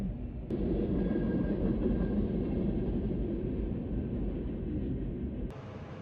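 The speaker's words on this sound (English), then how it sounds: "It's a long train." A continuous low rumble of a long train rolling past, steady and loud for several seconds without letting up.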